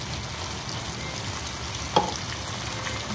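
Spice paste of ginger, garlic, chili, tomato and yogurt fries and gets stirred in a pan, giving a low, even sizzle with one sharp utensil knock midway and no talk.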